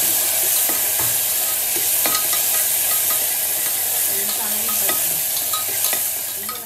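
Curry leaves, onion and tomato frying in a hot oil tempering make a loud, continuous sizzle and hiss, with scattered clicks and scrapes of stirring throughout and no talking.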